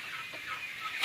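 Poultry, ducks and chickens, cluck faintly in the background at a Lao home kitchen during duck blood dish preparation; a short, distant clucking with no talk.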